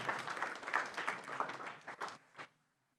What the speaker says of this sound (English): So let's give them one more round of applause, and we'll take a photo.